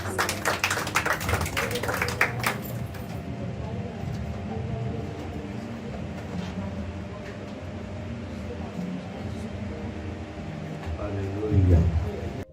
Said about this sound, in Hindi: हम ताली भाई के धन्यवाद करेंगे।